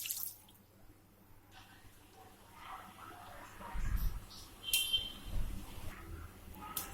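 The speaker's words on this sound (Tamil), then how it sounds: "இப்போ பாத்தீங்கன்னா நல்லா கொதி வர ஆரம்பிச்சிருக்கு." Moong dal lentils boiling in a pan of water give off a soft, faint bubbling with scattered small pops and drips that swell in the later seconds.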